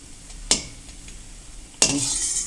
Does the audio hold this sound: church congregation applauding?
no